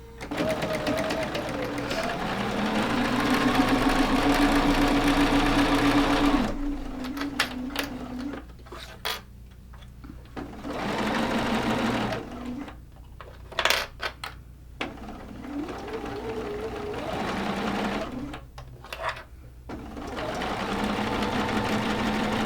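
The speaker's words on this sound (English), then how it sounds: "Go ahead and sew it down and we're gonna fix it." A sewing machine stitches a quilt block in several bursts: a long steady whirring run, then shorter starts and stops separated by pauses, with clicks and brief handling sounds between runs, up close.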